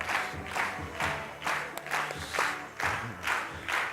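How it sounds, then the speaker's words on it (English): Audience applauding and cheering for qigong teacher Lee Holden, a crowd clapping in strong rhythmic waves, roughly two beats per second, loud and unified throughout. "So give a big round of applause to Lee Holden."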